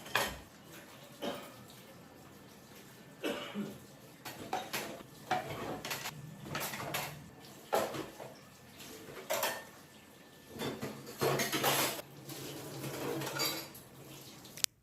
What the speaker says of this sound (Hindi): तो मैं सबसे पहले यहाँ पर बर्तन वॉश कर लूँगी।